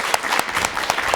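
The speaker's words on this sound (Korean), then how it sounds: "박수로 맞이해 주시죠." A short burst of audience applause welcoming a guest onto a Korean show, with individual claps audible in an irregular, moderately loud patter from a small crowd.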